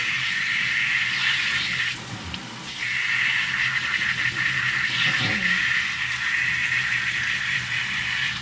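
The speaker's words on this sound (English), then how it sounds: "you have to just use the regular faucet, the regular nozzle" Water streams from a regular faucet nozzle on a warm setting to wet hair during a home wash, a steady hissing flow that briefly dips and shifts as the stream is moved, with no talking.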